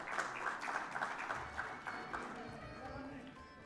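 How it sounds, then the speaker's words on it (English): Audience applause at an award presentation, a dense burst of clapping that starts strong and slowly thins out over a few seconds. "I request everyone to please join your hands and clap."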